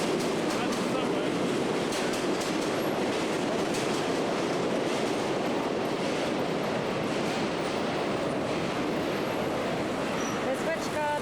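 An elevated subway train on the B line passes on the overhead tracks at Bay Parkway in Bensonhurst, a loud continuous rumble with rattling wheels and faint squeals that holds steady throughout.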